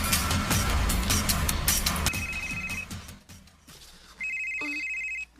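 A telephone rings with bursts of electronic trill, the first overlapping a busy mix of sounds and the second standing out clearly after a short quieter gap.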